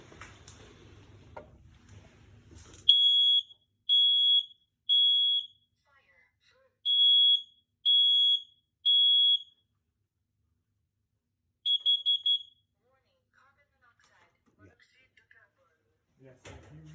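A residential smoke alarm in a house basement beeps in sharp, high triple bursts, repeated three times and then once more, with brief low voices and shuffling at the start and end.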